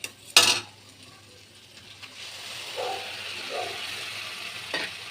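A paste of red chili, coriander, cumin and garam masala with ginger puree, frying in hot oil in a pan. It gives a soft, steady sizzle with a sharp clatter of a utensil near the start.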